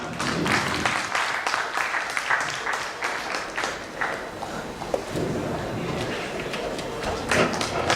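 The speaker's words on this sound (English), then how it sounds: "A big round of applause for them" An audience at an annual scientific medical conference claps for the speakers of a sleep apnea debate, a steady patter of hands lasting several seconds with a few heavier thumps mixed in.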